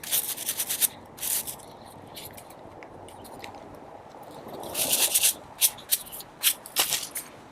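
Hardneck garlic stalks are cut close at hand, with crisp snipping and crunching bursts early on and again in a quick irregular cluster toward the end, no talking.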